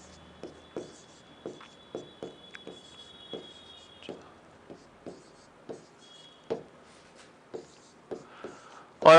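A pen or marker writes out a number series on a board during a maths lesson, giving about fifteen short, separate tapping strokes in an uneven rhythm. The strokes are close and moderately loud in a quiet room.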